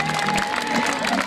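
Roadside spectators applaud and cheer a disappointed cyclist whose chain slipped near the finish of a Tour des Landes stage, with a steady, dense clapping wash and a faint tone running underneath.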